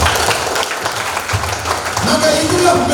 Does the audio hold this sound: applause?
yes